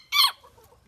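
Black Sablepoot hens in an outdoor poultry pen give a single short, fairly loud clucking call, followed by quiet low background murmur.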